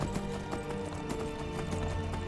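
Horse hooves clip-clop in a steady rhythm with a short whinny in Skyrim, set against a dense, continuous game soundtrack.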